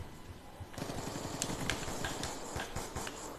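Rapid automatic gunfire in Call of Duty Black Ops 2 multiplayer on the Cargo map, a fast train of shots starting abruptly and running on with sharper cracks scattered through, fairly quiet.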